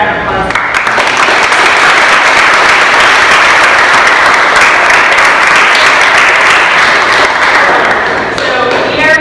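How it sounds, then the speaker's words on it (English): Loud, sustained audience applause fills a room at the close of a lecture on Marxism and politics, steady dense clapping running throughout, with a voice briefly audible near the end. "let's give it another round of applause"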